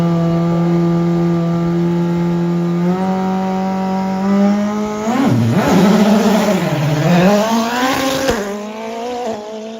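A prototype race car accelerating hard up a hill climb course at Trofeul Sinaia, its loud, close engine note climbing through gear changes, then dipping and rising again with a sharp rasp as it blasts past.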